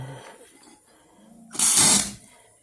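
Water sprays in a sudden loud hissing burst from a hose while a barn floor drain is being flushed out, after a quieter stretch of low rustling and handling noise.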